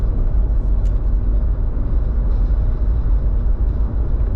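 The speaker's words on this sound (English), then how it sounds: "We're sat here at about 65 miles an hour because we've got the trailer on the back." A car towing a trailer at about 65 mph on a road, heard from inside as a loud, steady low rumble of engine and road noise that holds unchanged throughout with no talk.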